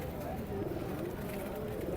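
Pigeons coo softly and continuously at a Sunday pigeon market in Saddar, while people talk nearby amid a busy crowd.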